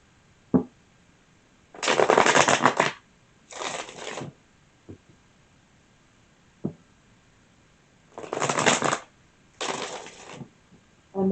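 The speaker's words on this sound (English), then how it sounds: "One more shuffle." Several short riffling shuffles of a tarot deck, each a brief papery burst, with soft taps and pauses in between, close up.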